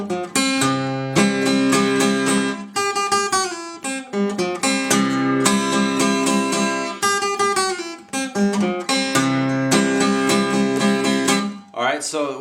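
A Delta blues guitar lick is played as quick plucked phrases with repeated bass notes and bright treble runs, close and continuous, with a short pause near the end.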